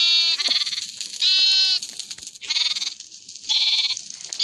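Baby sheep in Minecraft bleat in four loud, clear, wavering calls spaced across the stretch, each a short nasal cry with brief gaps of silence between them.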